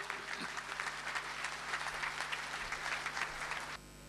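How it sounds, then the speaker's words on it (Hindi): Loud, sustained audience applause welcomes poet Dr. Nawaz Deobandi at a mushaira in Qatar, a dense even roar of many hands that cuts off abruptly near the end, leaving low background hum. "जोरदार तालियों से इस्तकबाल करें डॉक्टर नवाज देवबंदी साहब को"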